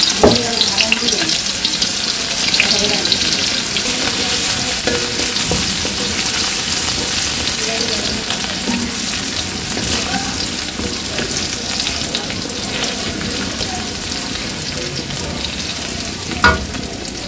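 Garlic frying in hot oil in a Bangladeshi village kitchen, a loud, close, continuous sizzle with stirring scrapes and a few clinks throughout, no talking.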